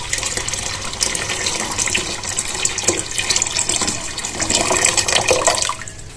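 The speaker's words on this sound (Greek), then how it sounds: "τοποθετούμε 3 λίτρα νερό." Three liters of water run steadily into a cooking pot in a continuous splashing stream, like filling from a tap, with no voices.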